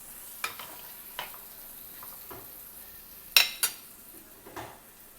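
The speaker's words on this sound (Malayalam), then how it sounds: "തക്കാളി ഒന്ന് നന്നായിട്ട് കുക്കായി വരാൻ വേണ്ടി നമുക്ക് വെയിറ്റ് ചെയ്യാം" Tomatoes cooking in a pan for egg kurma, with a few light stirring scrapes and clinks of a utensil against the pan over a faint, steady background hiss.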